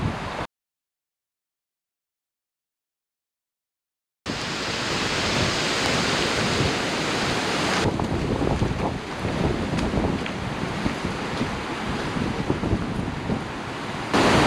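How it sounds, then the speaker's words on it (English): A Dartmoor spate river in flood during a storm, rushing as a loud, steady broadband roar that fills the scene, with a silent gap early on before the torrent returns unbroken. "The power of the river on a day like today is absolutely phenomenal."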